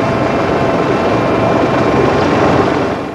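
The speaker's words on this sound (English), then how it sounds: "You see news clips on TV at night of Coast Guard helicopters and Coast Guard aircraft being involved in rescues" Coast Guard helicopter rotor and engine roar, loud and steady throughout with a dense continuous thrum, no voices over it.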